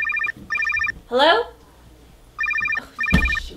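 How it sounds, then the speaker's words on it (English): Telephone bell rings in repeated double bursts, loud and close, with a short voice interjection between rings and a thump near the end. "Oh, shoot, phone."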